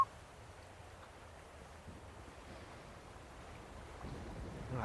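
Steady storm ambience of rain with low rumbling thunder plays as a backdrop to a Call of Cthulhu tabletop session, a soft continuous wash with a slight swell near the end and no voices.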